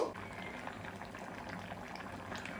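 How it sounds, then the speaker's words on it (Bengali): Shukto curry with milk boils in a pan over a high flame, giving a steady, faint bubbling hiss that carries on evenly throughout. "এবার হাই ফ্লেমে একবার একটু ফুটিয়ে নেব।"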